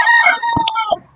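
A rooster crows once in the Roblox Shawarma Kiosk game, a short, bright, close cock-a-doodle-doo lasting about a second.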